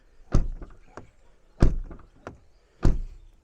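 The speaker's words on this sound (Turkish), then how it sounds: "Kapı sesimiz bu şekilde." A 2017 Renault Megane 4 door shuts with a solid thunk three times at a steady pace, each closure followed by a few softer clicks and taps.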